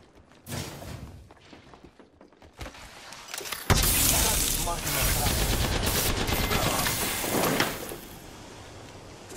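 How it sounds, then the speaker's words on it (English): Gunfire in the video game Apex Legends comes in bursts, building to a dense, sustained rattle of shots, with game voice lines heard in between. "Opening fire on the enemy."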